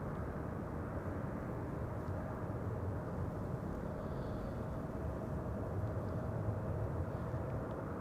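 A Qatar Boeing 777 arriving at Amsterdam Schiphol airport on a sunny day, a steady distant jet engine roar and rumble sustained evenly without talk.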